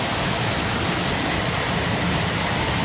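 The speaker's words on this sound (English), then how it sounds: "you see those waterfalls" Steady, dense rush of falling water from waterfalls at the Pandora – The World of Avatar theme park area fills the whole clip, a broad continuous roar with no voices or pauses.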